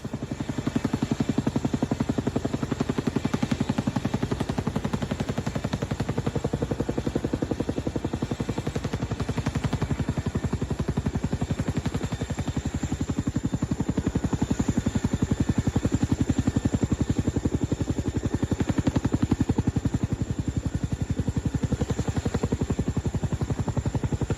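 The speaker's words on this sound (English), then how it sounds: "There isn't a challenge that this helicopter can't handle." A helicopter fitted with a water dumping device for emergency water delivery drones and thumps loudly and steadily throughout, its rotor chop and turbine whine holding close with no break.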